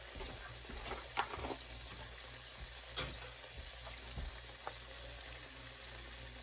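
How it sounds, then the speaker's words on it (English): Vegetable broth poured into a pan of sautéing chopped garlic gives a steady, close sizzling hiss, broken by a few soft utensil clicks. "So I'm going to put in a little bit of vegetable broth."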